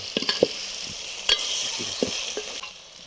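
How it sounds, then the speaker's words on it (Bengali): Whole spices with turmeric and Kashmiri chili frying in a pan for a mutton and chicken dish, a soft steady sizzle broken by several light scraping stirs of a spatula, close and moderately quiet. "এগুলো একবার কষাই।"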